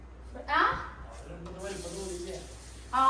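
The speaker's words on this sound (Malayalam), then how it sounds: "ഈ കറിവേപ്പിലൊക്കെ ഒന്ന് കഴുകിയിട്ട്" Tap water runs over curry leaves being washed in two short, splashing bursts, one near the start and one at the end, with a voice talking in between.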